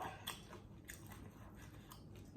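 Crisp fried lizard eaten alongside som tam, with a few sharp close-up bites and crunchy chewing, quiet and without talk.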